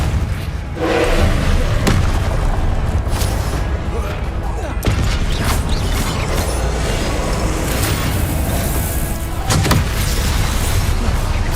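Spell casting in the Hogwarts Legacy video game (Confringo, Expelliarmus and Depulso): a loud, dense wash of magical whooshes and rumbling booms, broken by a few sharp bursts and thuds across a sustained roar.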